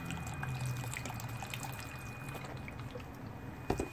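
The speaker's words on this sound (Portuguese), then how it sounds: "Água, eu tô colocando água de coco." Coconut water poured into a NutriNinja blender cup, a gentle continuous trickle and splash of liquid lasting a few seconds, soft and close, ending with a brief clink.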